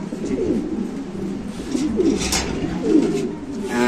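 Lahori pigeons coo in low, throaty rolling phrases, repeating every second or so, close by and fairly loud.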